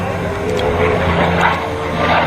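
A P-51 Mustang propeller fighter plane drones steadily overhead, loud and continuous, its engine note rising slightly as it passes.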